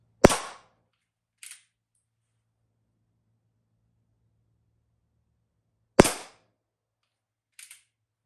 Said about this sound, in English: Sounds about like a nail gun going off.